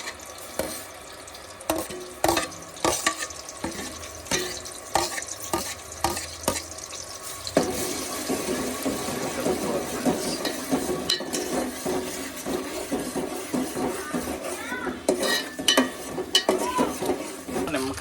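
Onion paste hits hot oil in a pan and fries with a bubbling sizzle that swells partway through, under repeated scraping and tapping of a spoon stirring against the metal, close and moderately loud.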